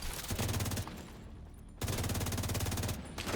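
Rapid automatic gunfire in a video game, emptying half a magazine in two close, loud sustained bursts separated by a brief pause, with a short third burst starting at the end.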